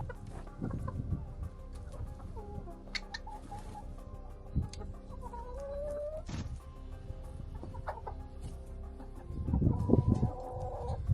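Hens cluck and murmur close by in an irregular, ongoing chatter, with a few louder squawks near the end.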